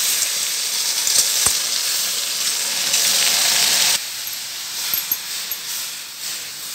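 Water poured into a hot pan of roasted cluster beans, giving a loud steamy hiss and sizzle that holds steady, then drops a little and carries on with a couple of soft knocks.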